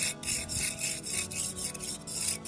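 A tool carves into a sprayed-on fake rock texture coating, giving rhythmic scraping and rasping strokes at close range, about seven or eight of them, with no talking.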